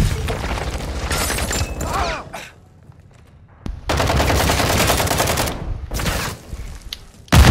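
Bursts of rapid automatic gunfire in Call of Duty: Modern Warfare II, with booming shots, loud and dense, broken by a brief lull before the firing resumes.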